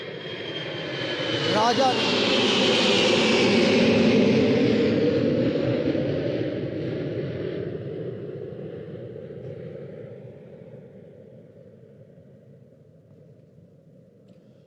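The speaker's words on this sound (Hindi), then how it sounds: "इस वक्त हमारे सर के ऊपर से, ग्राउंड के ऊपर से एक एरोप्लेन गुजरा है, आपने बड़ा नॉइस सुना होगा इसका जी।" An airplane passes overhead above a cricket ground during a T20 match, a broad roaring rumble that swells, peaks, then slowly fades away over about fifteen seconds, with a brief voice heard early on.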